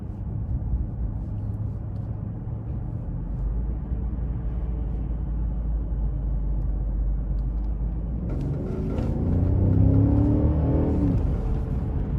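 A 2014 Mercedes-Benz S550 4MATIC accelerates with a smooth, steady low engine rumble heard from inside the cabin, swelling louder near the end as the car pulls harder; no talking.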